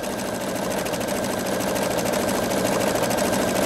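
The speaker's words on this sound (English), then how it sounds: "all I have to do is start sewing" A Pfaff Creative 3.0 sewing machine runs a tapered stitch, a continuous loud whirring hum with rapid regular needle pulsing, close and steady throughout with no talk.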